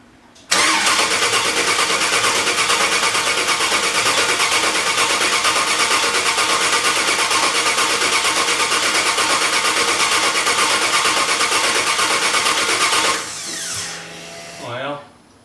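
An engine turns over and catches, then runs at a loud, steady roar for about twelve seconds before dropping to a quieter idle and shutting off.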